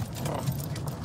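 Hooves of a draft horse mare clip-clop in a quick, even rhythm, close and moderately loud, over a short stretch of outdoor ambience.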